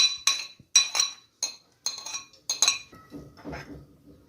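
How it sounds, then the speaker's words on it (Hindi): Chopped potatoes, onion, tomato, green chilli and herbs dropped into a bowl for chana chaat, giving a run of sharp clinks and clatters of pieces and a utensil against the dish, then softer tumbling and rustling as the last vegetables land. "अब मैं डालूँगी इसमें आलू और ये तमाम सब्जियां जो मैंने कटिंग करके रख ली थी"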